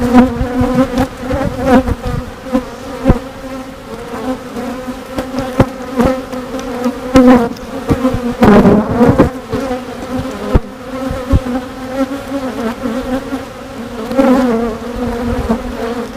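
Honeybees from a swarm buzz densely around a hive frame, a steady close drone with shifting pitch as individual insects pass near, continuous throughout with no voices.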